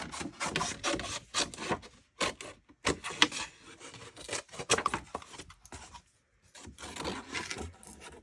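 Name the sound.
scissors cutting paper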